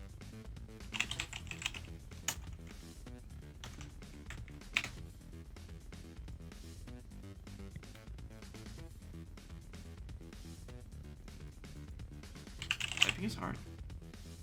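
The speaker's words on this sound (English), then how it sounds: "Typing is hard." Rapid clattering keystrokes on a computer keyboard while setting up a Mortal Kombat 1 online tournament game, close and continuous with a few louder bursts, and faint voices in the background.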